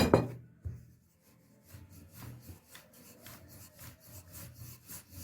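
Katmer dough being rolled out with a rolling pin on a floured counter, rhythmic rubbing and scraping strokes after an opening thump, close and fairly quiet.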